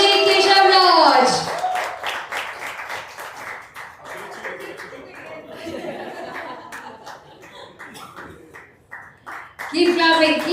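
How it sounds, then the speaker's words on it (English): Audience at a live discussion event clapping and applauding, a steady crowd patter with some laughter, while a host's amplified voice speaks over it at the start and end. "Keep clapping, keep applauding"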